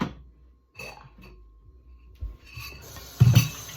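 A lid clinks back onto a pot of Jamaican cornmeal porridge, with small clinks and handling noises leading up to one sharp metallic knock near the end, close by and without speech.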